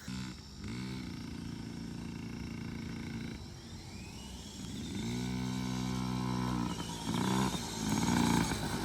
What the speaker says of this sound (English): We've got their dirt bike track over there, but they just want to cruise around the yard, I guess.